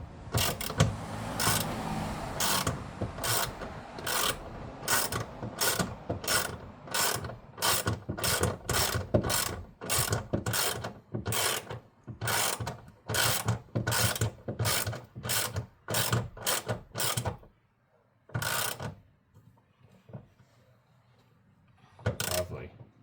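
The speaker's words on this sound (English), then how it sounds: "No, just use a ratchet." A hand ratchet tightens bolts while the back of a vehicle is taken apart to fit an ARB compressor. Close, loud ratcheting strokes come in a steady series of separate clicking bursts, then slow to a few final pulls before quiet.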